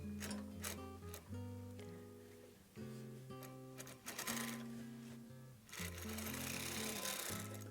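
A hand-cranked knitting machine clatters through cranked rows while casting on with braided fishing line and wool yarn, a quiet rhythmic mechanical whirring and ticking with brief pauses between turns.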